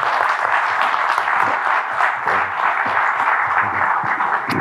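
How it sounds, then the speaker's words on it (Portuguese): An audience at a talk event in Porto gives a guest a sustained round of applause: a dense, even wash of clapping with no pauses. "Isabel Pires Lima, uma salva de palmas"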